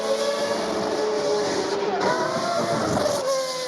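A Formula 1 race car engine passes at the Goodwood Festival of Speed with a sustained high-pitched engine scream that swells and shifts pitch as it goes by, heard from trackside at moderate distance.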